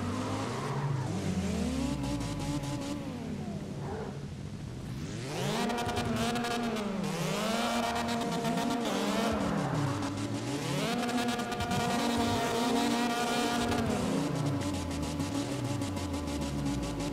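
Cars do burnouts in the video game CarX Drift Racing Online: engines rev up and down in repeated swells while tires squeal and skid. The sound is steady and fairly quiet, with no talk.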